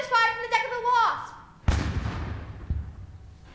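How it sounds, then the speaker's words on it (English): A voice speaks at first, then a stage cannon effect fires from a ship's deck in a theatre performance, a single loud booming blast with a long rumbling decay and a faint second thump. "the cannon is fired from the deck of the Wasp"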